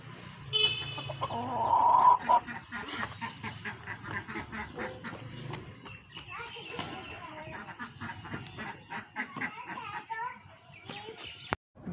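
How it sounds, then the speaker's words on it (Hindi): Ducks quacking and a rooster clucking in a small backyard mini zoo of pet birds, a busy run of repeated nearby calls with a voice speaking over them. "आपको अच्छा लगा ये रूस्टर अच्छा लगा आपको? नहीं अच्छा लगा? फिर डक्स अच्छी लगी?"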